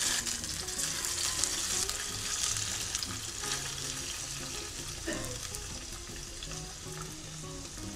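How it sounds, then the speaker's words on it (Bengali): Bele fish coated in salt and turmeric fry in hot oil with a continuous, even sizzle and crackle heard close up. "তেল গরম হয়ে গেলে লবণ হলুদ দিয়ে মেখে রাখা মাছগুলো তেলে দিয়ে দিচ্ছি।"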